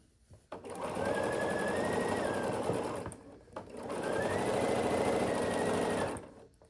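A sewing machine stitches quilt seams for a Flying Geese quilt in two steady whirring runs of about two and a half seconds each, separated by a short pause, close and loud.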